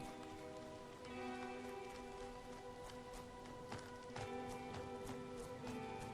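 Rain patters steadily in the Cassette Beasts video game, a soft, even hiss with scattered brighter drop ticks under quiet game music, and no talk.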